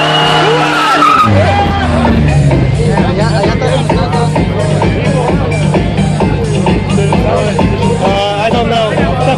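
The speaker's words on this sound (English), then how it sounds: "All-wheel drive skid, man." An all-wheel drive car skids with long wavering tire squeals at a Maryland car meet, loud and continuous over engine roar, while a crowd chatters and shouts in the background.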